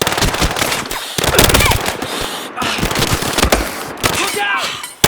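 Battlefield Hardline gameplay gunfire, dense rapid automatic bursts and shots layered with shouting voices and chaotic action, loud and close throughout.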